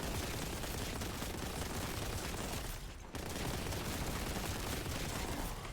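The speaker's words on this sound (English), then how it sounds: "a game that lets you kill things with an on-fire bolt gun" Rapid, sustained gunfire from a flaming bolt gun in the Warhammer 40k Boltgun shooter, a loud dense barrage that fills the whole stretch and drops out briefly about halfway before resuming.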